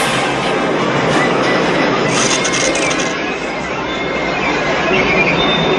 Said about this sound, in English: Lois boards a train that quickly speeds up when the driver becomes unconscious.